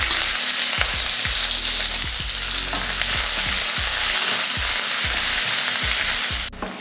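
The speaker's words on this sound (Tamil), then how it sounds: "வெங்காயம் இந்த அளவுக்கு வதங்கினதுக்கப்புறமா கொஞ்சம் பெருங்காயத்தூள் சேர்த்துக்கலாம்" Onion sautéing in oil in a kadai with mustard seeds, urad dal and curry leaves makes a loud, constant sizzle, punctuated by a rapid series of spatula scrapes and taps, close up with no voices.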